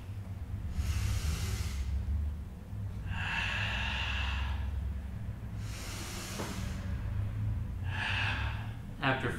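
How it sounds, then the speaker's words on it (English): Deep, slow breaths during a mobility stretching routine, four long audible inhales and exhales close to the mic, alternating evenly over a low background hum. "I like to inhale as I go to one side and exhale as I flow to the other side to make sure I'm still maintaining a nice deep breath pattern"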